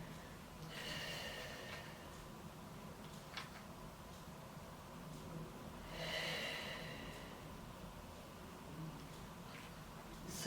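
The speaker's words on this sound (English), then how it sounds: "breathing out to lift and hover, and breathing in to place yourself down" Breathing during a Pilates-style mat exercise: soft, steady exhalations and inhalations close to the microphone, with a couple of sharper breaths standing out over a low background hiss.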